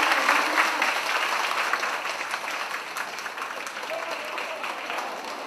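Audience applause at a live prize-giving event, a steady dense wash of many hands clapping at once, fairly loud and sustained, slowly tapering over several seconds.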